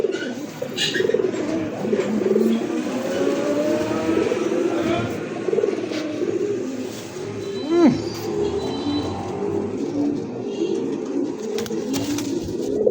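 A pair of Rasgolla Mili racer pigeons coo in soft repeated rolling calls, close and fairly loud, over a busy background murmur with a brief sharper sound near the middle.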